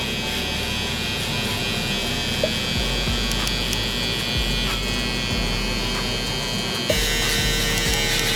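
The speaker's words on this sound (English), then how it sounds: "From the top to the bottom, I'm gonna go in with my trimmer." Electric hair trimmer buzzing steadily as it cuts hair during a barber line-up, a close, continuous motor drone with slight shifts in pitch as it moves through the hair.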